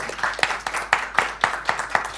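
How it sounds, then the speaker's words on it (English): Brief applause for panelists at a lung health press conference, a small group clapping in steady, fairly close hand claps for about two seconds with no talking. "just maybe a round of applause for the panelists tonight"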